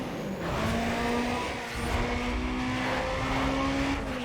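A Honda drag car engine launching in the video game NFS Pro Street: a steady, loud, high-revving drone that holds near constant pitch, briefly dips, then climbs again, heard close with no talk.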